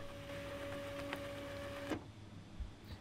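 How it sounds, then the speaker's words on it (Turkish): A printer in Life is Strange runs with a steady mechanical whir and a thin tonal hum, then stops abruptly with a click, leaving quiet room tone and a soft thump; faint and close. "e-postayı yazdır"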